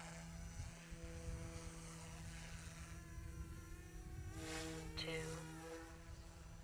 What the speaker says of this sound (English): Very nice little helicopter.